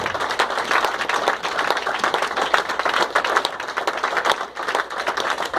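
A church congregation claps steadily for several seconds during a worship service, a dense, even wash of many hands that stays loud from start to finish.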